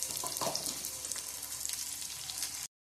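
Okra with a little salt fries in plenty of oil for a Gujarati corn and okra curry, a soft steady sizzle with occasional stirring scrapes, close up, ending abruptly.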